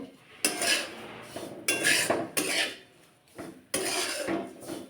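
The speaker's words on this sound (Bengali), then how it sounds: "সুজিটা একটুখানি ভেজে নিই।" Semolina fried with grated carrot in a pan for carrot halwa, with a few loud bursts of metal spoon scraping and clattering against the pan over a quieter background, no talking.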